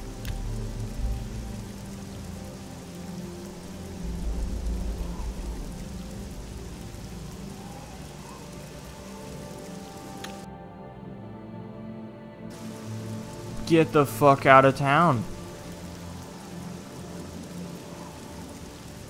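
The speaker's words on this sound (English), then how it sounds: "It's always just raining." Steady video game rainfall hisses throughout, briefly cutting out partway before resuming, with a short burst of shouting voices near the end.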